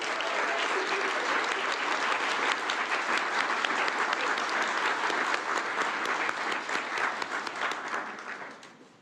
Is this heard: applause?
yes